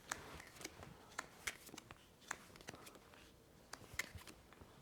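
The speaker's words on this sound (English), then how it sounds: "give those a shuffle" A small stack of game cards for a solo tabletop session is shuffled by hand, a quiet, close run of soft riffling ruffles and crisp snaps at an irregular rhythm.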